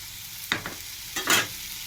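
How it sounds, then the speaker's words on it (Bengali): Thinly sliced potatoes and other vegetables frying in a pan with prawns, stirred twice in quick scraping bursts over a low steady sizzle. "ভালো করে নেড়ে চেড়ে ভাজো তোমরা, এবং ভাজা হবে চিংড়ি মাছ দিয়ে"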